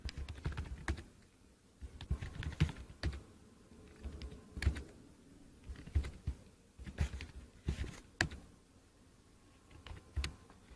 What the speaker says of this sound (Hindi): तो मैं जल्दी से 5 नाम और उनके रोल नंबर्स को एंटर कर देता हूं।